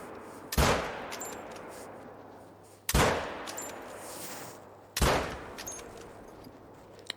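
Rifle shots fired at a wild boar during a driven hunt in Spain, three loud, sharp cracks spaced about two seconds apart, each trailing off in a long outdoor echo.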